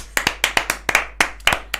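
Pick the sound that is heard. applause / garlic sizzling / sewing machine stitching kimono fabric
applause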